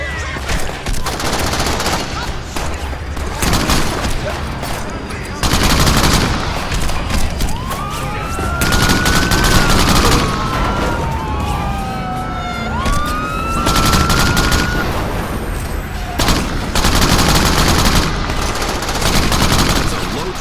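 Dense gunfire in the Crackdown video game on Xbox One X: rapid automatic bursts and repeated shots fill the scene without letup, loud and close, with wailing sirens sweeping overhead and brief voices heard under the shooting.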